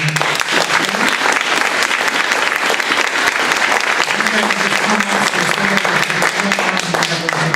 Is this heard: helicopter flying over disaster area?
no